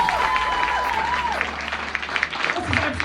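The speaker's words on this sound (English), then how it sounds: "Give yourselves a round of applause for being here." Comedy club audience applauding, a dense burst of clapping and crowd noise under a brief sustained tone, continuing for a few seconds.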